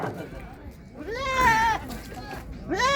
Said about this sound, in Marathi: सगळ्या शेळ्याच आणल्यात तुम्ही.